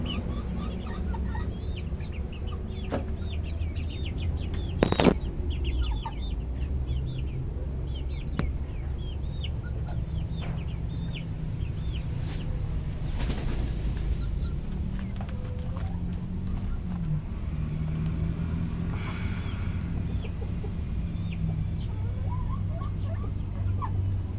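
Chickens cluck and crow steadily close by, about two-month-old broilers at around 45 days and 4 kilos, fed restaurant rice scraps, their clucking continuous over a low rumbling backdrop with one brief louder knock.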